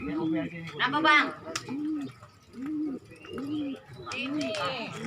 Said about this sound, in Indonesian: Ya, gue mau ngambil burung ini.